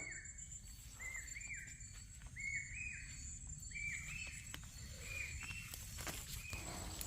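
An Asian koel calls repeatedly during a leafy greens harvest, a series of clear rising notes at a steady pace, moderately distant over soft outdoor ambience and insect hum.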